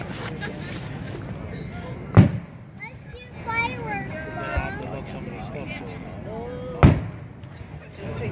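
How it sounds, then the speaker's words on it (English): Fireworks bursting over Nara Park, two sharp loud booms a few seconds apart with crackling between them, heard over a background of crowd chatter and nearby voices. "Fireworks."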